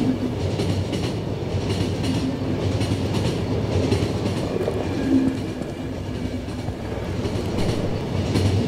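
A train rolling along in a post-apocalyptic video game, its steady rumble and rhythmic clatter of wheels on rails continuing loud and unbroken, with no voices.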